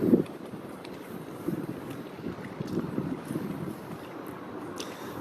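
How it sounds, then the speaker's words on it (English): Wind blowing over an outdoor weather meter with a spinning propeller anemometer, a steady low rushing buffet with gusts, loud and continuous without speech. "as the wind blows, the propeller on our meter spins and it readjusts itself to face the direction that the wind is coming from"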